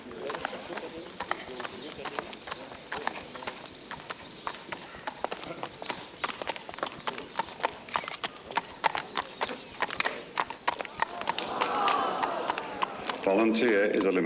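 Hooves of Volunteer, a lame eventing horse, beating in a steady, rhythmic clip-clop of sharp, distinct strikes at moderate distance, with faint outdoor background sound and a brief swell of noise near the end.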